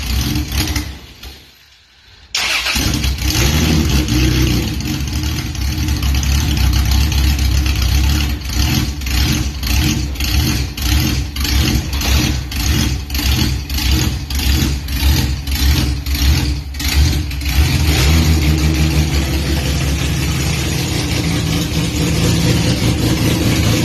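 A naturally aspirated 3.2-litre stroker Toyota 2JZ in a converted Nissan Prairie cranks and fires, then settles into a loud, close idle. It is punctuated by a long run of rhythmic throttle blips before holding steady again, with no talk over it.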